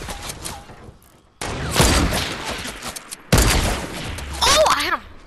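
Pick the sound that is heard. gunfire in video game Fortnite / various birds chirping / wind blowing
gunfire in video game Fortnite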